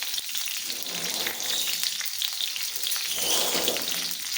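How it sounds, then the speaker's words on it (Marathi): Green chillies crackle and sizzle steadily in hot oil in a home kitchen, Khandeshi style, a dense continuous frying hiss with popping bursts, close and fairly loud, with no voices. "आता बघा, हे त्यामध्ये मी टाकणार आहे तेलात।"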